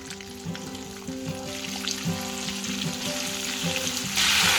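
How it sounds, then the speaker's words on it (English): Pangasius fish pieces fry in hot oil a few at a time, a steady loud sizzle with faint stirring clicks and a harsh bubbling surge near the end, with no talking. "we're going to fry a few at a time and we're going to fry them for about 5-6 minutes until they're gone slightly golden"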